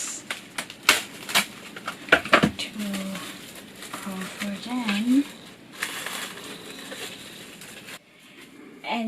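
Plastic wrap crinkles and snaps as it is stretched over a bowl of sticky rice before microwaving, coming in short bursts of crackling near the microphone, with a voice speaking now and then.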